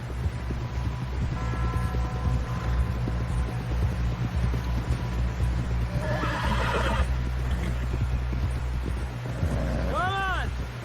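A horse whinnies near the end of a Red Dead Redemption II ride toward camp, rising over a steady low rumble of hoofbeats and background hum, with voices talking earlier in the scene.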